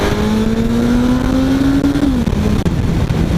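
A 1981 Honda CB750F motorcycle accelerates on a ride, its engine note climbing steadily and then dropping as a gear shifts, loud and close under heavy wind roar.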